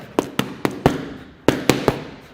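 Seven sharp punches smack into boxing focus mitts during a fast mittwork drill, landing close and loud in two quick bursts of four and three.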